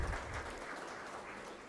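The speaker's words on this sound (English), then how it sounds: "Please sound applause for these two persons." Quiet, steady applause rises from a seminar audience honouring a couple, a soft continuous patter of many hands heard at a distance.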